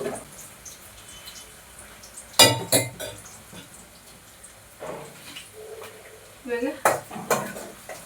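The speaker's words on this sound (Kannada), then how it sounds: "ಈರುಳ್ಳಿ ಚೆನ್ನಾಗಿ ಸ್ವಲ್ಪ ಹಸಿ ವಾಸನೆ ಎಲ್ಲ ಹೊರಗೋವರೆಗೂ ಕುಟ್ಕೊಂಡು ಎಣ್ಣೆಯಲ್ಲಿ ಬಾಡಿಸಿ" Onions sautéing in oil in a home kitchen pan, a faint background sizzle broken by scraping and clinking of a spoon stirring against the metal.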